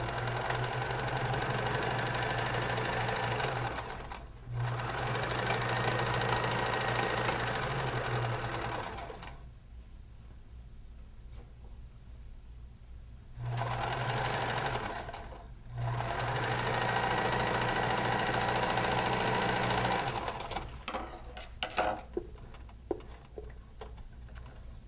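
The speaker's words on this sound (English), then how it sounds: "I have a 40-plus-year-old sewing machine." A sewing machine over 40 years old stitches a mitten in three long whirring bursts, each broken by short pauses, with a quieter stretch between them and a few light clicks near the end.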